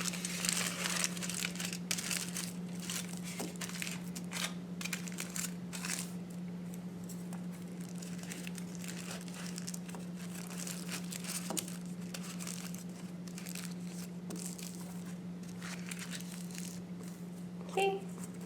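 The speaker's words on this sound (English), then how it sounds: "So I'm just folding mine in half. Like this, kind of smushing it together. And I'm going to repeat the same thing for the other strip of aluminum foil." A strip of aluminum foil is folded in half and crumpled by hand, giving intermittent close crinkles and soft scrunches over a steady low electrical hum, with no talking.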